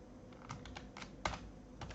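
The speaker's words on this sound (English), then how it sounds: "in this message let's type in" Keys clatter on a computer keyboard, the taps coming quick and uneven, with one sharper keystroke partway through, all quiet and close with no talking.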